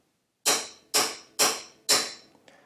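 Four evenly spaced, ringing metallic strikes of a hammer on a steel punch, marking a drill spot on a Royal Enfield Interceptor 650 tail light bracket, close and loud, each decaying briefly, with a faint small tap after the last.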